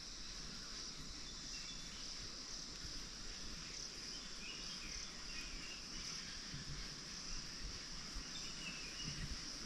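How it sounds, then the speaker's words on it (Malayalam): A steady, dense chorus of crickets and other insects fills a forest along a cleared path through elephant country, with faint scattered bird calls underneath, continuous and even throughout. "കാട്ടിലെ കിളികളുടെയൊക്കെ ഒന്ന് ശബ്ദം ഒന്ന് കേട്ടോണേ"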